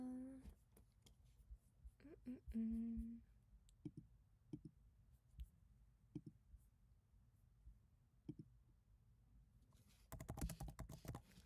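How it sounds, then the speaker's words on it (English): Clicking keystrokes on a computer keyboard during a drawing stream, scattered taps and short bursts near and quiet, with a voice briefly at the start and a quick flurry of rapid typing at the end. "I'm typing in my own chat."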